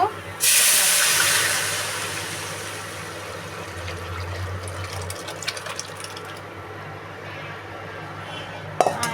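Dal poured into a hot spice tempering for an olive dal gives a sudden loud hiss and steam burst that slowly fades into a steady simmering sizzle, with a faint clink near the end.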